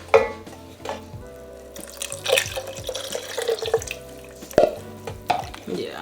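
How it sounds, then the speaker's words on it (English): Chicken broth pours into a pan of bacon and mushroom rigatoni sauce, a close, steady liquid splash and trickle with faint clinks, no talk. "we're gonna add about 1 cup or so of chicken broth"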